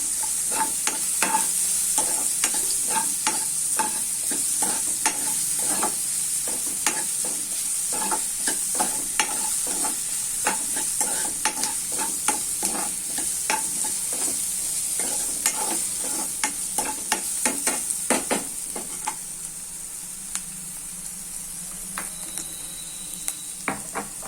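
Ginger garlic paste frying in a pan, a steady close sizzle with a dense, irregular run of spoon scrapes and taps as it is stirred, fading slightly toward the end.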